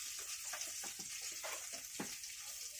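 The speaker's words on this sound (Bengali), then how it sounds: "দুটো শুকনো লঙ্কা ফোড়ন দেবো" Dried red chillies hitting hot oil in a pan: a steady close hiss and crackle with scattered small pops, fairly faint overall, no voices.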